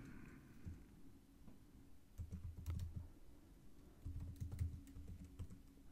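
Keys tapped on a computer keyboard while entering a password during an SAP 7.52 software installation, quiet and close with irregular clusters of soft clicks and brief pauses between bursts.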